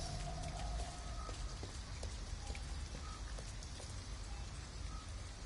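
Rain from the video game Detroit: Become Human, a steady, soft hiss of falling drops that continues evenly throughout, with no voices.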